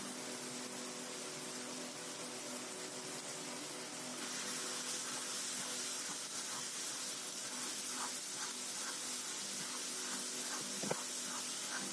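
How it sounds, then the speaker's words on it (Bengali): Spice masala for a village-style chicken curry fries in a pan while being stirred, giving a steady close hiss and sizzle that grows slightly louder midway, with faint scraping and one small knock near the end. "মশলাটাকে অনবরত এইভাবে নেড়ে যেতে হবে যাতে নিচে না লেগে যায়।"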